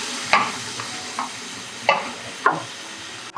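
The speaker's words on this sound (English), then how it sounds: "As you can see now, the meat is browning off." Beef and pork mince sizzles and browns in a pan for a rich ragu, a steady low fry broken by several sharp scraping stirs of the meat.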